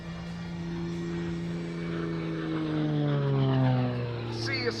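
An Extra 300 aerobatic propeller plane drones steadily overhead at the Bagotville Airshow 2024, its engine pitch sliding down and then climbing as it maneuvers, loud and continuous with no talking.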